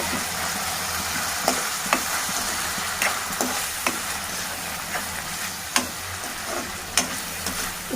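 Chopped tomatoes with salt and turmeric are stirred in a pan, a continuous soft sizzle broken by regular clinks and scrapes of the spoon, close up and without speech.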